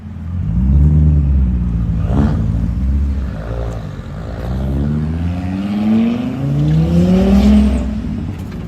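A Volvo S60R engine and exhaust rev and rumble up close, loud, with several rising throttle sweeps and a throaty drone between them.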